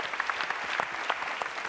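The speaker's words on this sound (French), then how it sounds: "Applaudissez-les très fort, s'il vous plaît." Crowd applause for the technical teams at a corporate challenge event, close, lively clapping with distinct individual claps, fairly loud and on its own.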